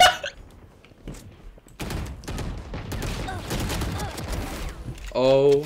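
Stinger submachine gun firing in Valorant: rapid bursts of gunfire packed together through most of the stretch, loud and close, with a voice talking over parts of it.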